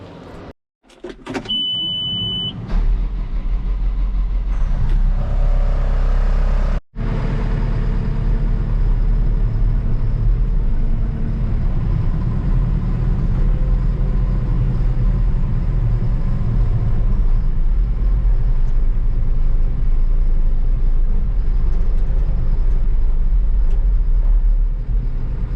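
An old Chevrolet C10 cab being moved out of a paint booth by a vehicle, a short clunk and whir, then a loud, steady engine rumble close by that drones on without a break.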